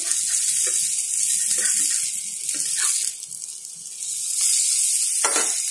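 Red pumpkin flowers fry in a pan with a steady, close hiss of sizzling oil that swells and dips slightly, with no talking over it.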